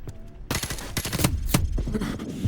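Rapid bursts of gunfire in Call of Duty: Modern Warfare Remastered crackle loudly and almost continuously, with sharp shots layered over a busy, dense background.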